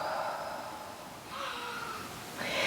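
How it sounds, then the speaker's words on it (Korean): A deep, breathy exhale during lying-down yoga breathing with knees bent and chin tucked, a soft airy rush that swells and eases in waves, close and fairly quiet, with no talking. "내쉬고."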